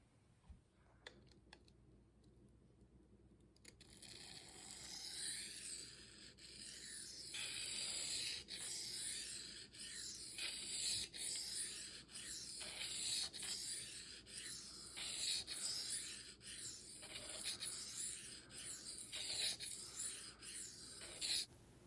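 A Maxamet steel knife is stroked on 600 grit Sharpal diamond plates, close and quiet, after a brief pause, then a steady run of repeated scraping strokes in an even rhythm.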